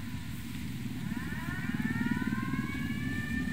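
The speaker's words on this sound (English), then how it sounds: "Let me get that siren turned off wherever." A wailing siren in the Ghost Recon Wildlands video game rises slowly in pitch, fairly faint and distant over a steady low rumble of background noise.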